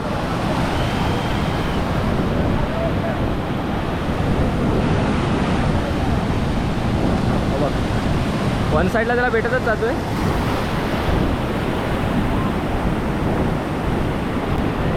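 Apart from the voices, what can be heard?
strong sea waves crashing during fishing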